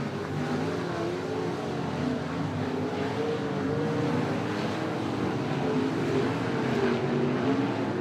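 Sprint cars race around the Ruapuna Speedway oval in New Zealand during a Sprintcar Grand Prix night, their engines a loud, continuous layered roar of several cars at once, with no talk.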